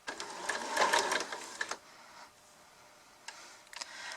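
A sewing machine stitches fabric for a face mask, running in a fast rattling burst for over a second and a half before stopping, followed by a few faint clicks.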